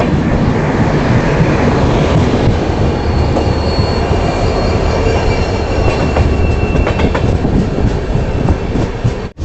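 The Yoga Express, hauled by a WAP5 locomotive, rumbles along from onboard at a loud, steady roar, with rhythmic wheel clacks and faint metallic squeal throughout.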